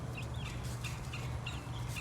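Young chickens peep in their coop, with short high calls repeating every fraction of a second over a steady low background hum.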